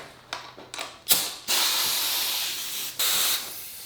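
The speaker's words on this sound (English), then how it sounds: "I want to start feeding air pressure into this and see if the crank bolt moves." Compressed air hisses through a hose fitting into an engine cylinder of a Honda S2000, opening with short clicks and bursts, then a loud steady spray-like rush, close up and without talk.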